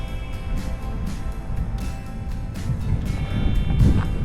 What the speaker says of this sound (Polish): bo wichura jest straszliwa